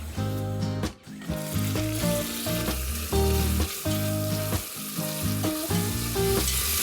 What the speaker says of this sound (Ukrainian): Не забувайте помішувати м'ясо для того, щоб воно не підгоріло з однієї сторони